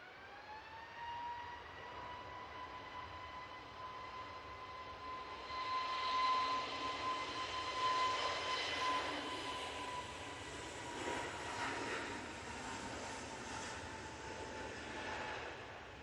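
A jet airliner departs Manchester Airport for Amsterdam Schiphol. A distant engine roar with a high whining tone swells in the middle and then eases into a steady rumble, with no voices.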